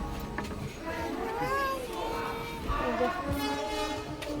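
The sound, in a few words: train interior while riding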